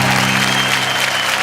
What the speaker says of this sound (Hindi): जोरदार तालियां संतोष आनंद के लिए।